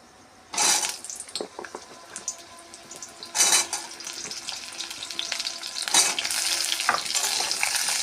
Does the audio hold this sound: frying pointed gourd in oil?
yes